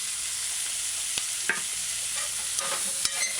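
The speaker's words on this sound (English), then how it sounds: "This was like 2-3 minutes frying and adding the vegetables and so forth." Carrot and mixed vegetables frying in a pan for boneless curried chicken give a steady close sizzle, with a few sharp scrapes and taps of a stirring spoon, and no voices.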